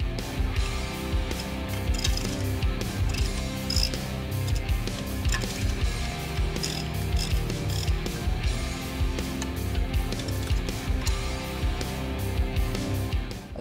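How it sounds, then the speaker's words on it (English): Screws are undone from the spark plug guardrail of an MWM gas genset, light metallic clicks and ratcheting tapping continuously beneath a loud, steady engine-room drone. "Next, we remove the screws from the spark plug guardrail."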